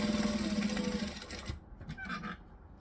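A sewing machine stitches fabric in a steady rapid mechanical chatter for about a second and a half, then stops, leaving quieter handling noises and light rustling.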